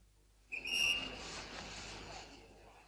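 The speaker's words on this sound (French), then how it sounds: "Le sifflet du chef de gare." A station master's single sharp, shrill whistle blast rings out and then fades into a wide, echoing station hall ambience.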